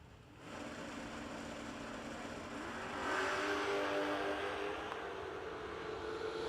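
Drag race cars at a no-delay nationals event rev through their exhaust systems, a steady distant engine drone that swells louder midway and holds to the end.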